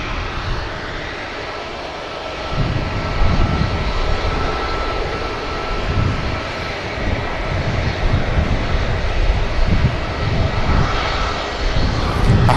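A heavy Airbus A380 jet departs Manchester Airport, its engines a steady, loud broadband roar that swells after the first couple of seconds and holds with a deep low rumble throughout.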